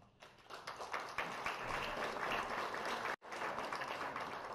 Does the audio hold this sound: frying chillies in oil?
no